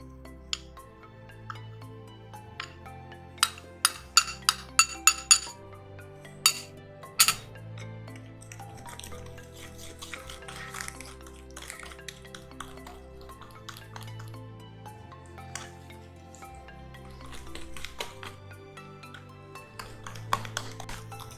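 Flour being mixed into cake batter in a bowl, with repeated close clinks of a utensil against the bowl in a quick cluster, then steady soft scraping and stirring alongside faint low background hum.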